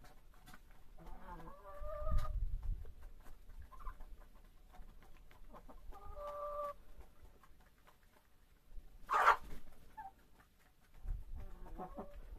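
Chickens and a young rooster cluck and call intermittently in a snowy yard, short scattered vocalizations a few metres away with quiet gaps and soft low rumbles between them.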